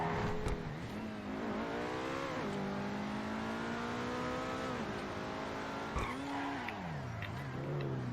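The Obey 10F car in a video game roars under steady engine revving that rises and falls with gear shifts, tires squealing through skids, loud and close, continuous, no talking.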